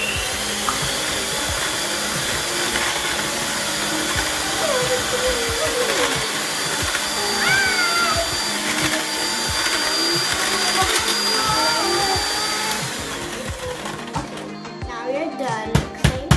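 A kitchen blender whirs loud and continuous as it mixes vanilla cupcake batter, the motor pitch wavering slightly, then cuts off near the end with a few clatters as handling noises follow.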